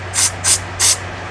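Carb cleaner fires from an aerosol can into a tiny passageway of a chainsaw carburetor in three short, loud hissing bursts with brief pauses between them.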